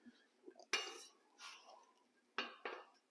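A metal spatula works an omelette on a Blackstone griddle, giving a few sharp, quiet clanks and scrapes against the flat steel, spaced apart with near silence between them.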